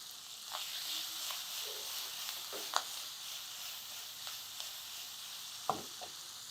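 Chopped capsicum pieces fry gently in a pan for a traditional Andhra paatoli, giving a soft, steady sizzle with a few sharper pops and clicks from the utensil.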